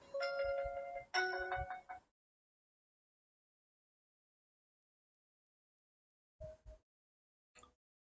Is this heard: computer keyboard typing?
no